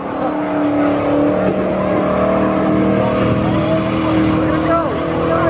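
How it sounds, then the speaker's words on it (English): A car revs and drives past at an Import Alliance car meet, a loud steady engine roar with shifting pitch and tire noise, voices talking over it. "That's my car, brother."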